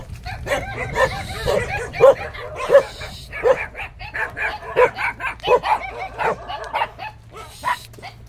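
Several dogs bark and yip repeatedly at close range on a street in Valenzuela City, Philippines, an excited chorus of overlapping barks with a faint background hum.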